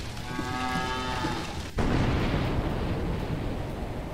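A cow in the video game Suicide Guy gives a long, close moo over the first half, cut off by a sudden loud rumbling burst that fills the rest.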